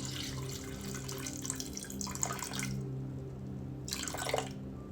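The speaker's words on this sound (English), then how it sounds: "So we're gonna do 175 grams of water." Water poured from a tap or jug into a sourdough starter jar in a kitchen, heard as two short close splashing bursts over a steady low hum.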